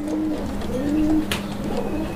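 A pair of big Gopalganj pigeons coo repeatedly in soft, low, rolling calls close by, with a brief sharp noise midway through.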